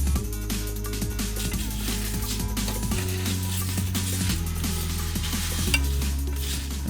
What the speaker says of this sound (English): You can expect the roasting process for the garam masala to take anywhere from 5 to 8 minutes